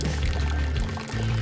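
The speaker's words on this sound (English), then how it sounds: "Here's our Cedar Springs flowing pipe, running water 365, it never freezes." Spring water from Cedar Springs runs steadily out of a flowing pipe and splashes below. The pour is close and constant for the whole moment, with no voices.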